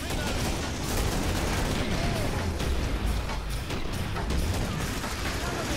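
Chaotic grenade blasts in the shooter game Killing Floor, dense booms and crackling gunfire mixed into a continuous loud barrage, with shouting voices under the din.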